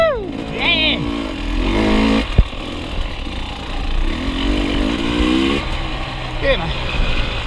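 A dirt bike motorcycle engine revving and surging as it rides at The Pines, rising and falling in pitch, close and loud, with people whooping and shouting over it.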